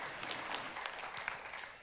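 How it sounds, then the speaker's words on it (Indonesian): Congregation clapping in a church, a steady dense patter of many hands sustained throughout at moderate level with no voices over it. "Berikan tepuk tangan buat Tuhan."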